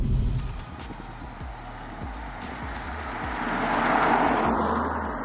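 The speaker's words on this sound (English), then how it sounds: "So here's a clip of my car now getting towed away by BMW Assist." A BMW G20 3 Series being towed away by a recovery truck after breaking down, heard as a steady, fairly loud engine hum and whir that swells slightly toward the end, with no talk.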